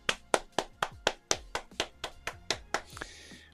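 A single person claps their hands about a dozen times in a quick, even rhythm, sharp close slaps in a quiet room, ending with a faint sigh or breath.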